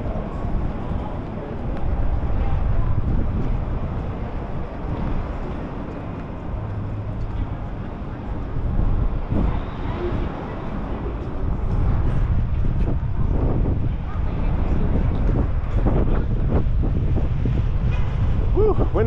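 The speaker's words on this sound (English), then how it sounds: "wind is kicking up" Wind gusts buffet a microphone on Queen Street in downtown Toronto in December, a steady, loud low rumble that swells and eases over nearly twenty seconds, with faint street sounds beneath.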